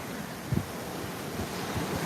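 Waves roll steadily onto a beach at a moderate distance, mixed with wind noise and a couple of brief low thumps near the microphone.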